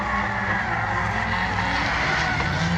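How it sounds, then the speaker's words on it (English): A drift car with a Nissan SR20 engine at drift practice, holding a loud, continuous high-revving note close by for a few seconds, with no talk. "I think these cars are rocking SR20s. Definitely sounds like an SR."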